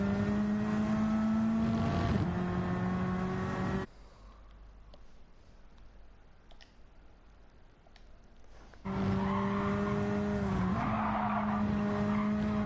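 A race car in Gran Turismo 7 braking hard with tyres skidding and squealing, loud engine roar that cuts to near silence for several seconds, then the loud roar and squeal return.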